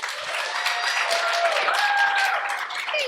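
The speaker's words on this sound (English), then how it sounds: "please give a big round of applause for Andrea" Applause from a comedy-show audience rises and holds steady for a few seconds, dense and fairly loud, with faint tonal sounds mixed through the clapping.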